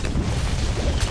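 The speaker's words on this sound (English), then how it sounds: "It's gonna go boom. It's gonna go boom. It's gonna explode." A brief, loud boom of a balloon bursting in the Bloons TD 6 tower defense game, a short burst of low rumble with a second thump just after.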